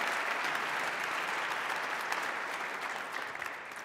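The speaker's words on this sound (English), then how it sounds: "Let's give a round of applause." An audience at a Martin Luther King Jr. Day event in Montgomery County, Maryland applauds a proclamation recipient with steady, even clapping from a crowd that continues without pause and eases off slightly at the end.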